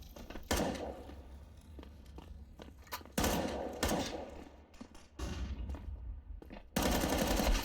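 Gunfire in a Counter-Strike esports match, with rapid automatic bursts and single shots coming in several loud clusters separated by quieter gaps, no commentary over it.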